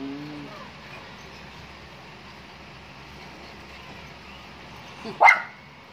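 A dog gives a single sharp, loud bark near the end, after several seconds of quiet background.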